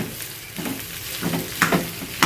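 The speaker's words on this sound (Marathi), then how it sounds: "ते आता ते तेलामध्ये त्या फ्राय करून घ्यायचे" Boiled potatoes frying in oil for a vada pav filling, a steady close sizzle broken by a few sharper crackles and stirring scrapes.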